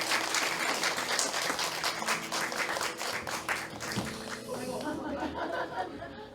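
A church congregation at a Sunday morning service applauds loudly and steadily, with chatter and a little laughter mixed in, then the clapping thins out and fades.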